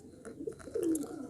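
Pigeons kept by a bird fancier give low, soft, rolling coos close by over a faint background hiss, with no talking.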